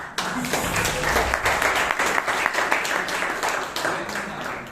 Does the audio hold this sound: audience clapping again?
yes